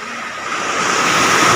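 Big ocean waves crash and roll onto the beach, a loud, close, building roar of surf with wind buffeting the microphone and no voices.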